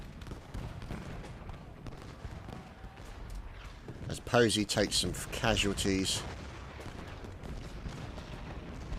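Cannon fire booms in the Civil War strategy game Ultimate General: Gettysburg, a cluster of rapid, loud artillery reports in the middle of the stretch over a steady battle rumble, with someone talking across it.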